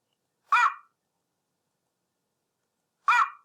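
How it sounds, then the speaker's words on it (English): Two short, sharp barks from a single dog, well spaced about two and a half seconds apart, with silence in between. "dog barking"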